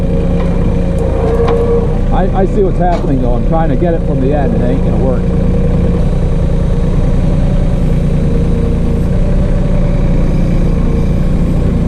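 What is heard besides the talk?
New Holland Workmaster 25 tractor engine running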